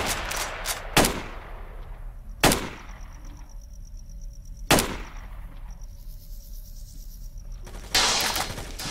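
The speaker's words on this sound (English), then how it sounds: "Can you stop shooting at me?" Gunfire in S.T.A.L.K.E.R. Call of Chernobyl: four sharp, loud single shots spaced a couple of seconds apart, each with a quick decaying tail, over a quiet background with a faint steady tone.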